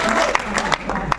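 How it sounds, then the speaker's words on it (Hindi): An auditorium audience at an Urdu mushaira in Lucknow claps in scattered, uneven bursts, with a few sharper individual claps standing out and a voice murmuring underneath. "आप जरा सा एक बार ताली बजा के इनका हौसला बढ़ा दीजिए।"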